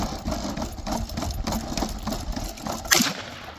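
Turkish armed robot moving while it fires at a target, heard as a steady mechanical whir of motors with sharp, rapid shots and one louder bang near the end, with no talking.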